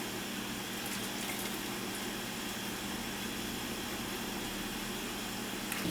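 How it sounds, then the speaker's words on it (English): Water from cooked spinach is drained into a bowl at home, giving a steady, continuous splashing pour that runs close and moderately loud for the whole stretch without pause. "Just want to drain as much of the water out as possible."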